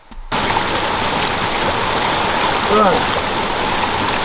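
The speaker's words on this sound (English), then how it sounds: "let's douse these things in some water and see if we can get a fire going that way." Water poured steadily over bushcraft fire starters outdoors, a loud continuous splashing rush like a stream that starts abruptly and runs evenly, with a brief voice murmuring partway through.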